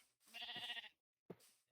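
A sheep bleats in the video game Minecraft: one wavering, quavering bleat, followed by a short second call after a pause, clear and alone.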